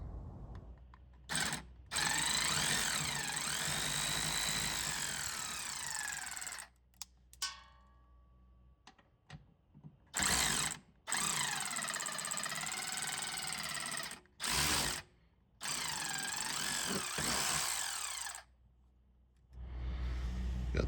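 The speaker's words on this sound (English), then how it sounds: "take off this this rear hanger with 12 millimeter with extensions on your sockets" Ratchet socket with extensions on a 12 mm rear exhaust hanger bolt under a Kia, a close rapid clicking that runs in long stretches broken by short pauses.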